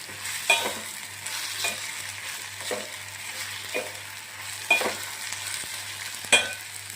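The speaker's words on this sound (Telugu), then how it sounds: "కొంచెం అల్లం చిల్లుల్లిపాయ పేస్ట్ కూడా వేసుకుంటే బాగుంటుంది ఇలా బాగా ఉల్లిపాయలు మగ్గాలన్నమాట" Onions with ginger garlic paste sauté in a pan for an Andhra-style egg curry, with a soft continuous sizzle, a faint low hum and periodic scraping stir strokes about once every second or so.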